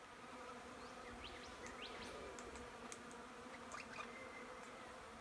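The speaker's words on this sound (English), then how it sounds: "It's the honeybees." Honeybees buzz on a winter day outdoors, faint scattered drones passing over a steady low background hum.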